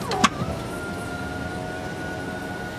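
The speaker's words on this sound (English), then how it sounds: "just tap the sunroof and drag to the percentage you want it open" On a 2012 Tesla Model S, a soft click is followed by the smooth, steady whir of the electric sunroof motor. The sound is close and even and lasts the length of the clip.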